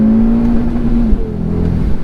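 A 2020 Audi RS3 engine holds loud and close on the rev limiter, a steady droning roar with a pitch that wavers slightly as the limiter cuts in.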